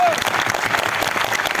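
Audience applause at a seminar-style company programme in Kolkata, a steady, dense burst of clapping from a crowd that fills the whole moment, close and loud.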